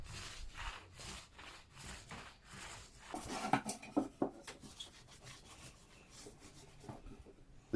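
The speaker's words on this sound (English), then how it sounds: "I lightly sprayed with some water and give a very light rub down with some 400 grit sandpaper" A light rub-down of a finished bathroom cabinet panel with 400 grit sandpaper, soft rhythmic back-and-forth strokes repeating steadily, close and quiet, with a brief burst of firmer scraping midway.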